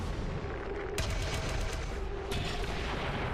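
Pistol gunfire in XCOM 2: War of the Chosen, with two sharp shots about a second and a half apart, heard loud over a dense, constant game soundtrack and ambience.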